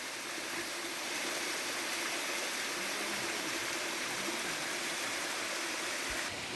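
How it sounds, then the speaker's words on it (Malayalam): A small waterfall on a farm property in Idukki rushes in a constant, even roar of falling water, steady and fairly close, with no voices. "ഇനി നമ്മുടെ സ്ഥലത്തുള്ള ചെറിയൊരു വെള്ളച്ചാട്ടമാണ്"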